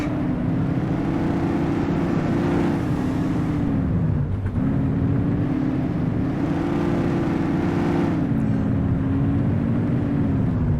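A loud, steady car engine drone in the video game The Precinct, with a rising and falling pitch as it revs and eases, filling the whole stretch without pause.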